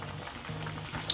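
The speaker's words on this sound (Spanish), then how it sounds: "miras que los brotes de soja se está cociendo" Soybean sprouts simmer in a pot of spicy Korean beef soup (yukgaejang), giving a soft, steady bubbling and low rumble with no voices, close and fairly quiet throughout.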